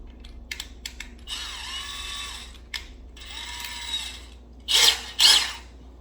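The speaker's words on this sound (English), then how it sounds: "So I took the drill bit out and I'm putting in my handy dandy screwdriver bit." A power drill in a cold garage whirs in short bursts while its bit is swapped for a screwdriver bit, with clicks and ratcheting from the chuck between runs and two sharp, loud bursts near the end.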